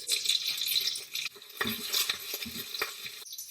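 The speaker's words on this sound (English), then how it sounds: "add your mustard seeds and cumin seeds. And once they splutter, add red chili" Mustard and cumin seeds spluttering in hot oil for dal tadka, a loud crackling sizzle broken by a short pause and irregular pops and stirring scrapes.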